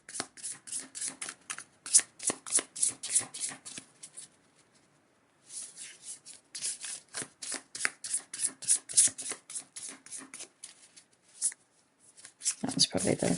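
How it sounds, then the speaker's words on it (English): Tarot cards riffled and shuffled close up, quick papery crackling bursts in a long run, a brief pause, then a second run of rapid shuffling. "That was probably the two shuffles that I said I'd do."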